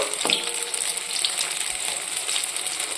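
Pieces of flour dough frying in a pan of oil, a steady close crackling sizzle throughout with a brief clink near the start, no talking.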